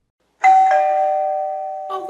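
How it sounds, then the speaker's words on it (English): A newly installed doorbell rings out loud and close, a bright two-tone chime whose struck notes sustain and slowly decay before a second ring begins near the end. "our new doorbell that we just got works now"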